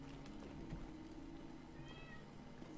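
A cat outside a window gives one short, fairly faint meow near the end, over a constant low background hum with no talking.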